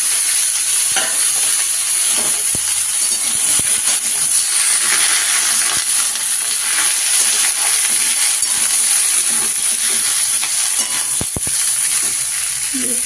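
Pumpkin, eggplant and radish frying in a pan, a loud, constant sizzle and hiss of oil with occasional scraping clicks of a utensil stirring, heard close up without talk.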